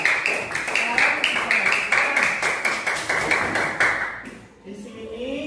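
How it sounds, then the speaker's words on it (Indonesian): Applause breaks out for a student speaker in a classroom, a dense run of many hands clapping close by for about four seconds before it thins out and fades away. "tepuk tangan untuk Fuad"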